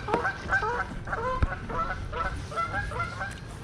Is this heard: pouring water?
no